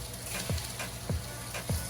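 Jamaican teriyaki jerk lobster sears in a hot pan with a steady close sizzle, broken by a few brief scraping shifts as the pieces are moved around.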